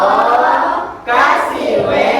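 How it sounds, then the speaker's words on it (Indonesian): Classroom of fifth-grade pupils clapping for a classmate, a loud, dense burst of applause that dips briefly, then swells again with scattered cheering voices. "Tepuk tangan untuk Alvina"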